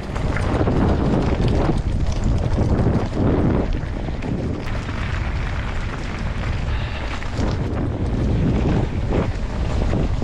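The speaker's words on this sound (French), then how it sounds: "Encore une cascade magnifique" A waterfall beside the Death Road near La Paz, Bolivia, gives a loud, unbroken roar mixed with heavy wind buffeting on the microphone, with no voices.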